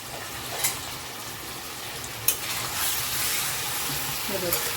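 Ingredients for a Kolhapuri white rassa frying in a pan, a steady close sizzle running throughout with a few small pops and clatters, and a voice talking faintly over it.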